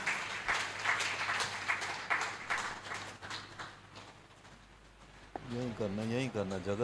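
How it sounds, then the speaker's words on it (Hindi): Audience clapping welcomes a woman arriving to sing a welcome song, moderate and fading over several seconds before a voice and singing-like tones take over near the end. "इस बहन के लिए जोरदार तालियां"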